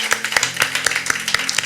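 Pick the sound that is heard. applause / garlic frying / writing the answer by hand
applause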